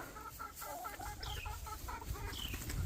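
Chickens on a farm yard cluck in quick repeated bursts, with a couple of higher squawks mixed in, fairly near but quiet over a low background rumble.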